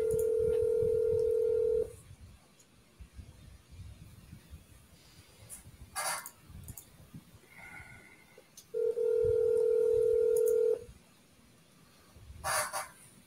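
Telephone dialing tones during a cold call: two sustained tone bursts of about two seconds each, separated by quieter background and a few brief sharp clicks, heard up close without speech.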